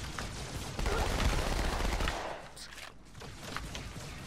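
Bursts of gunfire in Halo 2 crackle loudly and fairly close through the first two seconds, then thin into scattered fainter shots and game noise.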